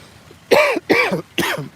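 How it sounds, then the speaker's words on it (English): Three harsh coughs in quick succession, close and loud, with short pauses between them and no talking. "Apologies for the cough."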